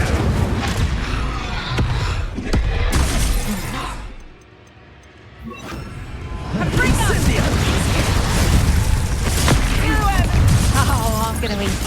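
Blasting-curse explosions and spell impacts in the Hogwarts Legacy fantasy game burst loudly and repeatedly in a chaotic duel, with a brief lull midway before crackling, shattering blasts resume.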